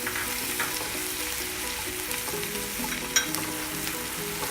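Crushed ginger and garlic frying in oil, a constant close sizzle with light stirring and one sharp clink, no voices.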